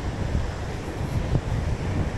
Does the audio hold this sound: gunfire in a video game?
no